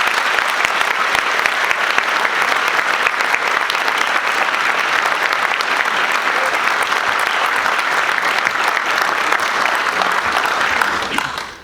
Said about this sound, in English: let's give another round of applause for Jacob